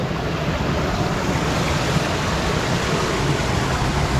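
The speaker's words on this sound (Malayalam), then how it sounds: "ഇങ്ങനെ വെള്ളം ഇങ്ങനെ പോയിക്കൊണ്ടിരിക്കും കേട്ടോ" Water runs through an aflaj underground irrigation channel in Oman, heard as a steady, loud, broadband rush that stays even from start to finish, with no voices over it.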